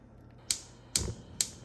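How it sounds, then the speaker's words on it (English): Cranberries popping while cooking in a pot with water, three sharp isolated pops spaced about half a second apart, close and crisp over a quiet background. "You can already hear them kind of popping a little bit"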